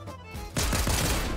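Gunfire in a video game: a quieter moment gives way to a sudden dense burst of rapid shots that keeps rattling loudly to the end.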